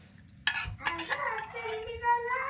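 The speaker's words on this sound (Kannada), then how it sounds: "ಇದಕ್ಕೆ ಈ ರೀತಿ ಒಂದು ಸ್ವಲ್ಪ ತಿರುವಿ ಬಿಟ್ಟನಂದ್ರೆ ಮಜ್ಜಿಗೆ ಸಾಂಬಾರು ರೆಡಿ ನೋಡ್ರಿ" A spoon stirring buttermilk sambar in a metal pot, with scraping clinks and a ringing metallic tone, close by. A voice can be heard faintly in the background.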